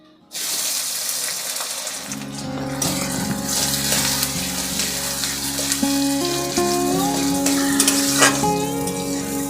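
Finely chopped onions hit hot oil already holding cloves and cardamom, bursting into a loud, sudden sizzle that settles into continuous close frying with faint clinks and tonal ringing from the pan.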